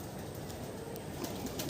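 A young pigeon coos softly while being held and turned upside down, a brief, quiet, low murmur close by with no speech.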